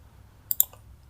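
Two quick, faint computer mouse clicks close together at a desk during road design software work, alone over a quiet room hum.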